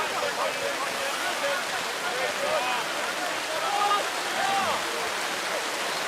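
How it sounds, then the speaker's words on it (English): Heavy rain pours onto a rugby union field during a club match between Onkaparinga and Burnside, a constant rushing hiss that continues throughout with commentary spoken over the top. "that rain's really coming down now"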